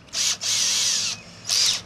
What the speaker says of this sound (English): Now for the tedious part, actually drilling that.